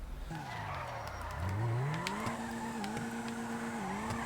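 A car in a drifting video game, front tires locking up under a tapped brake, gives a loud continuous skid and tire squeal with a rising engine tone, steady and close throughout.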